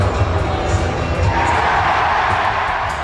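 A hockey arena crowd cheers in a dense, swelling roar that grows louder partway through, with scattered shouts and thumps in the mix.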